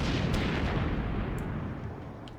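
Heavy naval gunfire from warships in World of Warships, a dense, continuous rumble of booming shots and explosions that stays loud throughout, easing off slightly toward the end, with no voices.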